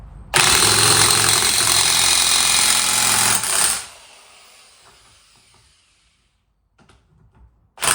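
Impact wrench hammering on the drum brake of a VW Beetle, a loud, rapid, sustained rattling burst lasting a few seconds before cutting off, followed by quiet faint handling clatter.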